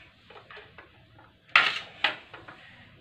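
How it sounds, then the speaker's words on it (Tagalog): A knife cuts through ginger on a board, two sharp clacking chops standing out from quieter scraping and handling sounds. "O, ayan, hiwain natin luya."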